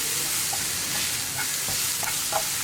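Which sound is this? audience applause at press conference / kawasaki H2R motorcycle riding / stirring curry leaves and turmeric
stirring curry leaves and turmeric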